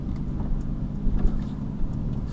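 A blue Ford Mustang with a naturally aspirated 5-litre engine rolls in, its low engine rumble steady and fairly close, with no voices over it.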